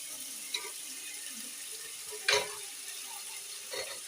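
Onions, mustard seeds and green chillies frying in oil, a faint continuous sizzle with a few soft clinks and stirring bumps, heard close and without talk.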